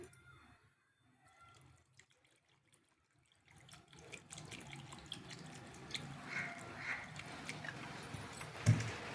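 Quiet at first, then water runs from a tap into a metal pot, a steady splashing stream with light clinks, filling it for making jeevamrutham plant tonic.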